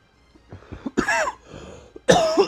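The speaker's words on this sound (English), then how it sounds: "I had a weird coughing fit." Harsh bursts of coughing come in a rough fit, a few short hacks followed by two longer, louder spasms, close and without talk.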